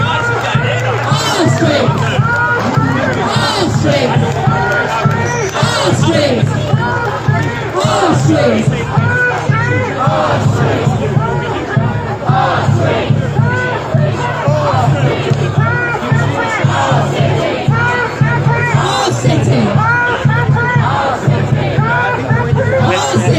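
A protest crowd in a Manchester city street shouts, chants and cheers in a loud, continuous roar, with overlapping voices that stay dense and steady throughout, with no pauses or gaps.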